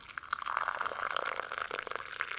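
Tea is poured into a cup on a calm, foggy morning in Bali, a soft continuous liquid trickle with faint splashy detail, fairly quiet and steady throughout with no talking.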